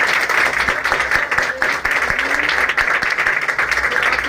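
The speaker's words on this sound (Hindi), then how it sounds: "ये आपके हाथों से बजी हुई ताली के" An audience claps their hands together in continuous, loud applause, a thick crowd of claps with a few sharper individual hits standing out.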